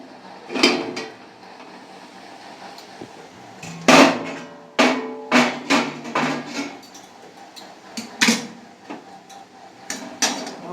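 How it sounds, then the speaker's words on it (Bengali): A lid lifted off a pan of onion pakoras frying in a little oil, heard as a series of sharp metallic clanks and rattles, loud and close, spaced irregularly over a quiet background. "চাপা খুলে দিচ্ছি"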